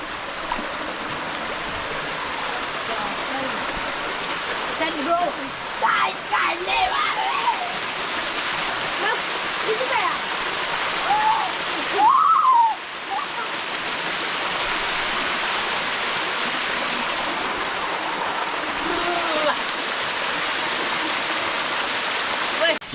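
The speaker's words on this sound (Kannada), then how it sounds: "ಈಗ ನಾನು ಸಣ್ಣ ಫಾಲ್ಸ್ ತೋರಿಸ್ತೇನೆ ಗೈಸ್ ನೋಡಿ" A small waterfall in a forest gives a continuous, loud rushing roar that stays steady throughout, with faint voices briefly audible.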